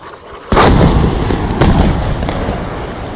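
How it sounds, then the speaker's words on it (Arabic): A sudden loud blast from rocket shelling by MiG aircraft hits at once, followed by a rolling, echoing rumble and a few further sharp cracks as the roar slowly fades in an outdoor setting. "قصف بالصواريخ من قبل طيران الميج"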